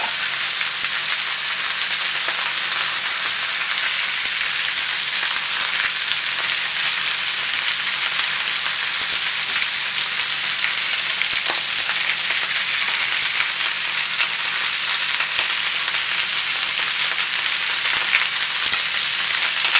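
Steady, dense sizzling of meat searing in a hot pan for curry soup, loud and continuous with crackling pops throughout, no voices.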